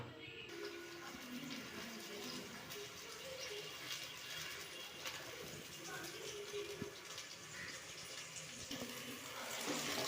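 Water pours steadily into a pot of Rayalaseema-style tamarind fish curry, a continuous close gushing splash that swells toward the end, with no talk over it.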